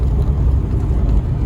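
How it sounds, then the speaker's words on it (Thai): A car engine drones loud and steady while straining in low gear up a steep, rainy mountain stretch of Route 105 from Mae Sot toward Mae Ngao National Park, a continuous close rumble with no talk. "เสียงรถนี่แบบ สุด ๆ เลยครับ"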